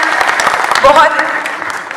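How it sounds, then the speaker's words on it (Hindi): Loud, steady applause from an audience at a Hindi comic poetry gathering, greeting a poet as she begins her recitation, with a voice briefly speaking over the dense clapping. "आप एक अच्छा वातावरण देने के लिए जोरदार तालियां"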